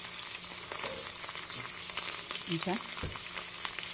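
Food sizzles steadily in a hot pan, a dense crackling hiss throughout, with a brief clank of a utensil and a short spoken word over it.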